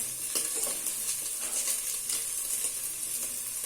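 Sliced carrots, capsicum and cabbage stir-frying in a hot pan as filling for chicken spring rolls, a continuous loud sizzle with scraping stirs throughout and no talk.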